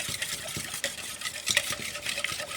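Curd (yogurt) whisked smooth in a bowl in a home kitchen, giving a quiet, steady run of soft rhythmic clinks and scrapes with no voice.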